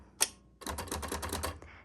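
Keys clacking on a 1962 Olympia Splendid 33 manual typewriter: one sharp strike, a pause, then a quick run of about ten rapid keystrokes, close and crisp.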